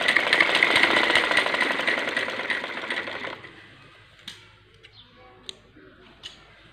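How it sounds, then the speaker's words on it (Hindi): A sewing machine runs fast, stitching a homemade foam cover with a loud, even mechanical whir for about three seconds, then stops, leaving a few faint clicks and taps of handling the fabric. "इधर एक सिलाई दे रहे हैं"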